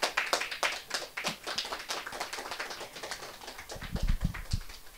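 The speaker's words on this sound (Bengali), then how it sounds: "উজানি ঢেউর পক্ষ থেকে একবার জোরদার হাততালি চাইব।" A studio audience claps as a memento is handed over at a Bhawaiya folk song competition, with a scattered, uneven patter of hands in distinct sharp claps, a few heavier claps near the end.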